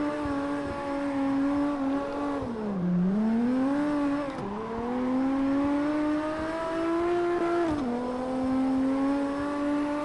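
A 1,000-horsepower 2JZ-powered drift car in the CarX racing game revs steadily, its engine note rising and dipping through repeated throttle blips, loud and close with no talk.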